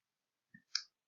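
A single computer mouse click, a soft press followed by a sharper release, sounds close and alone against silence.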